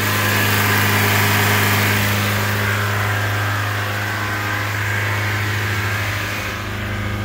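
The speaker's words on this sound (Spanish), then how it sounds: "lo tengo acelerado porque está aventando un poco de humo" Dodge Spirit R/T engine running at raised revs after a valve seal replacement, giving a steady, loud mechanical drone with a constant low hum that holds throughout.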